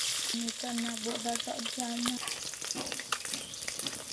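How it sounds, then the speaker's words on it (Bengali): Chital fish frying in oil until deep reddish-brown gives a steady close sizzle, with a brief tonal hum near the start and occasional sharp clicks. "মাছগুলোকে একদম লাল লাল করে ভেজে নিতে হবে"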